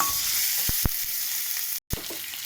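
Bora fritters frying in oil in a pan while spices are sautéed, a steady close sizzle broken by a few utensil taps and a brief dropout near the end, no speech.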